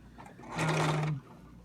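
Sewing machine stitching a design onto a jingle dress, a single short whirring burst of about half a second, close and clear between quiet pauses.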